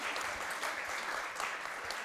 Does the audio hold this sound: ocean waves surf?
no